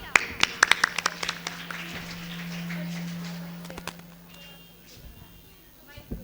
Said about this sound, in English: Clapping for Zia.